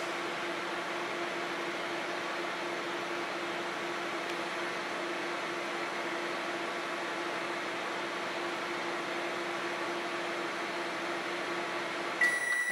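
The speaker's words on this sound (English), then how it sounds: "It's in the microwave now." A steady microwave oven hum runs continuously, with a faint beep or click at the very end.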